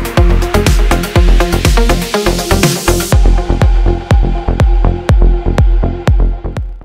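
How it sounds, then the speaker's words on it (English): The stepper motor of a DIY camera slider pulses in a loud, regular throbbing rhythm, roughly three beats a second, with a high whine in the first half that drops away, close and alone. "the stepper motor started running at the set RPM speed"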